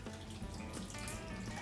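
A liquid butter mixture with garlic and parsley pours steadily over Old Bay–seasoned shrimp for smoking, a continuous soft wet trickle at low level with no talking.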